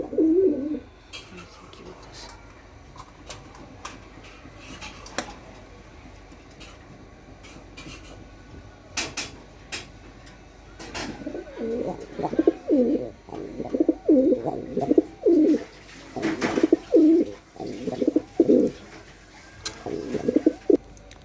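Pigeons kept in a home loft with a newly hatched chick coo in repeated low, throaty bursts, sparse at first and then in a close, steady run of calls over faint clicks and rustles.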